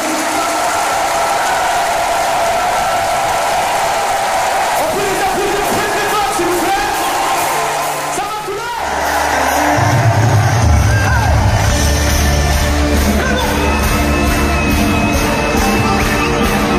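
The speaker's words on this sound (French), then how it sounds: "On peut les applaudir!" Concert crowd at the Zenith de Toulon clapping and cheering loudly, a dense roar with yells; partway through the noise dips briefly before music with low tones rises under the continuing applause.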